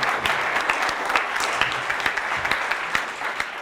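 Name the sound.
audience applause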